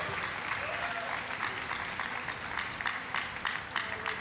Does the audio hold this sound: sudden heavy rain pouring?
no